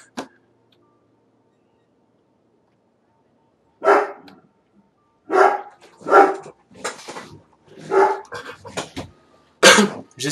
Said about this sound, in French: Et j'ai mon chien qui aboie.